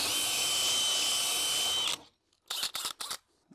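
A power drill bores a hole through live-edge wood for a floating kitchen shelf, a loud steady whine that cuts off and is followed by a few short bursts of the drill.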